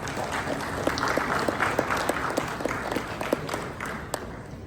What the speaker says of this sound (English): Please make him welcome with a round of applause.